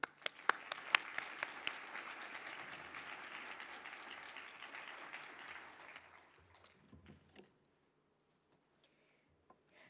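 An audience at a university commencement ceremony applauds graduates, dense scattered clapping that fades after about six seconds, leaving near silence with a few isolated claps.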